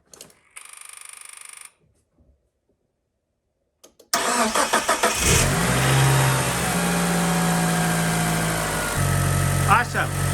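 Eagle Talon car engine cranking and catching after a short electronic chime, then settling into a steady, loud, close idle with a slight rise in revs near the end.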